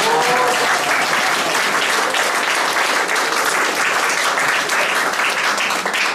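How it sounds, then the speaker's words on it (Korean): Sustained, dense applause from an audience at the opening ceremony of a photo exhibition in a gallery, steady and loud throughout without any speech. "이 많은 작품을 우리에게 보여주신 이춘희 작가 교수님께 다시 한번 박수 드립시다"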